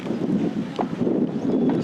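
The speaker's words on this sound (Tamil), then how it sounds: "காற்று வந்து எங்கிட்ட வீசுது, எப்படி வீசுன்னு பார்ப்போம்." Wind buffets the microphone outdoors at a village cricket match, a steady loud low rumble with gusty fluctuations throughout.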